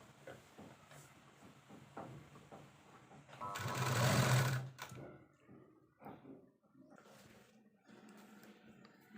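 A sewing machine stitches the lining onto a simple baby frock in one short, loud whirring burst of about a second, set among quiet handling and fabric noises.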